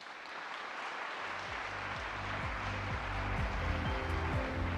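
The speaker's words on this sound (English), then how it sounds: "join me in giving another round of applause to Chairman Jeong for his gracious welcoming address" Conference audience at the International Leadership Conference gives a sustained round of applause, dense clapping that swells slightly and continues steadily throughout without any speech.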